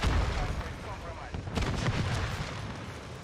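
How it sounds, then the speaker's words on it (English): Call of Duty: Modern Warfare III gameplay with a WSP Swarm submachine gun, dense booming in-game gunfire and blasts, loud and rumbling throughout, with a player's voice speaking over it. "I just sprayed 100 bullets at one kid."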